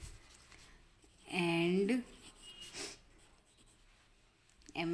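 Pen writing on paper, jotting down a cricketer's name, with soft continuous scratching strokes running under a teacher's speech that comes in short bursts.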